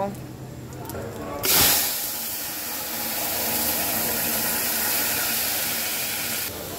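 Vegetables drop into hot oil seasoned with bay leaves and panch phoron for a winter mixed-vegetable curry, giving a sudden loud sizzle that settles into a steady, close, hissing fry lasting several seconds.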